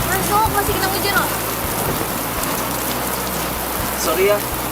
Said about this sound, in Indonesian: Masuk, masih kena hujan loh.